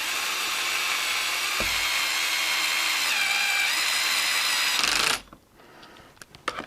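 A power drill on a slow torque setting driving screws into the lower suspension arms of a Traxxas X-Maxx RC truck, a steady high whine running about five seconds before stopping, followed by faint clicks and handling noises.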